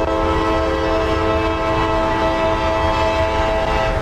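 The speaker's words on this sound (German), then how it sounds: "Da fährt der andere Güterzug schon los." Freight train in the video game Train Fever pulling out of a station, a steady loud rumble with sustained horn-like tones held throughout, no speech.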